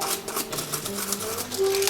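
A toothbrush dipped in alcohol scrubs a solder feeder clean, making a run of quick, scratchy brushing strokes in an uneven rhythm, close and fairly quiet, with no voices.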